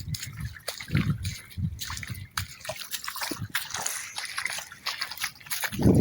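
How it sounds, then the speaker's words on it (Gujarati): Rainwater runs and trickles into a village pond during days of rain, an uneven close-up gurgle with splashes and drips and faint voices in the background. "આ પાણી બધું તળાવમાં જાય છે"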